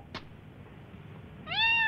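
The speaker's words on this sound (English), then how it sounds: "Hi, cat." A cat gives one clear, rising meow near the end after a short quiet stretch with a brief thump, close and alone, with no talk.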